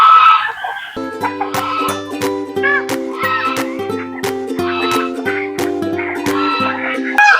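Chickens cluck in a farmyard where geese and hens sit on eggs, their calls mixed with other fowl over a steady, busy background.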